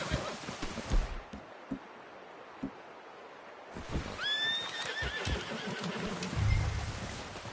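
A horse in the video game Red Dead Redemption 2 gives a loud, close whinny midway, with scattered hoof clops and rustling before and after.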